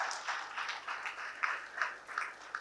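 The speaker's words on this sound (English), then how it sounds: "A big round of applause to sir." Audience applause for the chief guest at a formal award event: a light, fairly distant patter of many hands clapping, steady for a few seconds with uneven small peaks.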